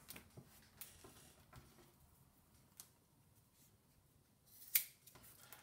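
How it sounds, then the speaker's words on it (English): A few quiet snips of scissors cutting excess knotted cord off a prayer rope, one sharper snip near the end, in an otherwise hushed room. "take our scissors, cut off the excess,"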